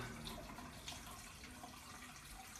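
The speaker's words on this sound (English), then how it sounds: "we'll just kind of watch the water fill up" Water runs steadily from a tap into a tall vase being filled nearly to the top for roses, a constant soft rushing hiss with no pauses.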